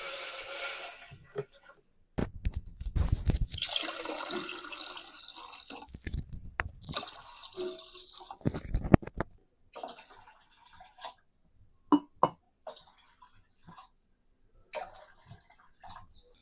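Water is poured into a pan for sugar syrup while making homemade rasamalai, heard as splashy bursts of pouring broken by short pauses, with scattered drips and clinks close by.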